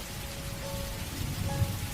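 Steady rain pattering in a cartoon village at night, a dense, even hiss of drops with a faint low rumble, no voices.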